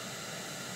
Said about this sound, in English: as you can hear, is just a static station